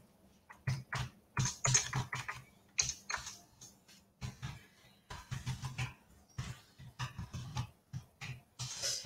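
Typing on a computer keyboard during a video conference, a close, quiet run of irregular key clicks in bursts with brief pauses, no one speaking.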